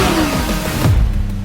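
A sports car engine at a drag race featuring a Lexus LFA, Porsche Carrera GT and Audi RS3 revs loudly and close by, holding a steady roar before the pitch climbs in a quick burst.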